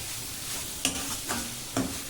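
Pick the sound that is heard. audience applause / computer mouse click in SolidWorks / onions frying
onions frying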